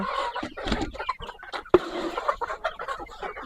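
Laying hens cluck and squawk up close at feeding time, a busy flock with one sharp loud call standing out, and no talking.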